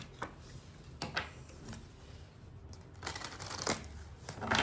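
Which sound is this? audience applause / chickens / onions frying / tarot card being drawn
tarot card being drawn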